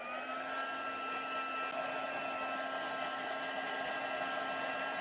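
A heat tool blows on embossing paste: a steady, even electric fan whine with a constant airy rush and a fixed hum, close and unbroken throughout.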